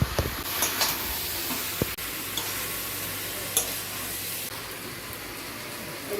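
Chicken pieces sizzle loudly in a hot pan for a Bengali chicken kosha, a steady bright hiss broken by spatula scrapes and stirring knocks, with no talking.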